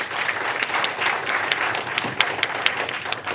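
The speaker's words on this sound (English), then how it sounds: "A big clap for the team of Instituto Cervantes." Audience applause for the Instituto Cervantes team at the EU Delegation Film Festival panel event: a dense, steady wash of many hands clapping indoors, with a few sharper nearby claps standing out, continuing throughout.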